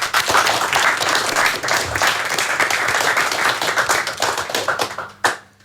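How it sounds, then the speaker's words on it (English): A live radio session audience claps for the performers, a loud burst of many hands applauding continuously and then tapering off, ending with a single sharp knock. "Big clap for everybody."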